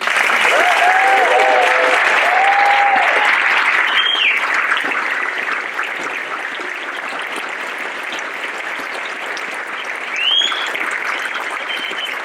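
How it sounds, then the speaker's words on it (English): Sustained applause from a sizable crowd at a White Coat ceremony, dense and steady for the full stretch, gradually easing slightly toward the end, with a few faint voices and whoops mixed in. "Let's give them a round of applause."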